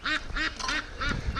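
A free-range duck at a lake, a hen carrying two leg tags, quacks in a steady run of four or five loud, close, nasal calls with no talking.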